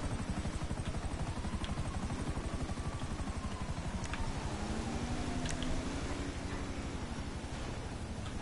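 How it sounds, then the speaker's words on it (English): Helicopter flying in GTA, a steady rotor chop with dense rhythmic pulses and broadband wash holding evenly throughout, fairly close and continuous, with no talk over it. "Oh, I hear a chopper."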